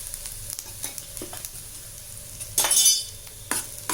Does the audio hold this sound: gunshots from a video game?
no